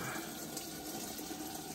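Water from a hose pours steadily into fish fry rack tanks, a constant broadband rushing with no talking.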